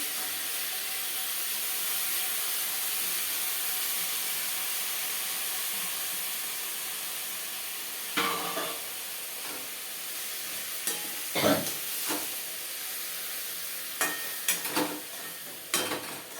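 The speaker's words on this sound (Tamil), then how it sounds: "இப்போ இந்த தக்காளி நல்லா கூழ் மாரி வதங்கி வரணும்." Tomatoes and spices sautéing in a pan for tomato rice, a steady hiss of sizzling underneath, then intermittent scraping stir strokes of a spoon against the pan in the second half, close and clear, no talk.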